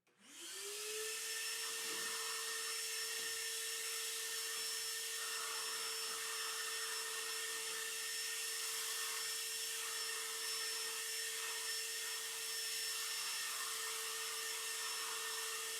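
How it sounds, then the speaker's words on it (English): A DeWalt DXV09P wet/dry shop vacuum motor whines steadily and loudly after a quick spin-up, a constant high-pitched roar with faint bumps of the nozzle moving across the floor. "I'm going to go ahead and hit that with the vacuum real quick"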